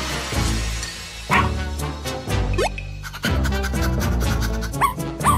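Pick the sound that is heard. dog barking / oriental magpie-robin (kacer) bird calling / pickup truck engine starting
dog barking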